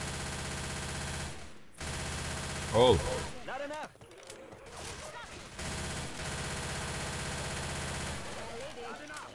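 Rapid bursts of gunfire in Left 4 Dead 2 crackle in a dense, mechanical rattle, with a voice speaking briefly in German over the noisy electronic background.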